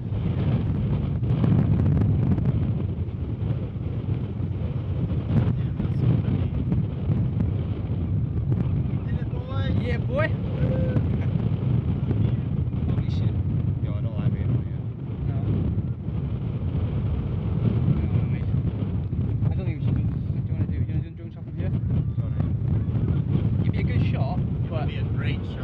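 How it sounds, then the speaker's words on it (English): Strong wind roars and buffets the microphone steadily for the whole stretch at the top of a tower, with a voice talking faintly beneath the gusts. "there's so much wind up here, guys"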